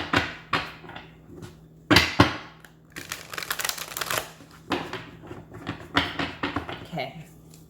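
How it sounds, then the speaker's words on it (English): Tarot cards being shuffled by hand in repeated riffling bursts with short pauses between them, close and crisp, while a voice talks. "we will shuffle for your reading"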